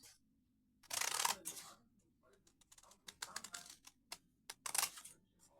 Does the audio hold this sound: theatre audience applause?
no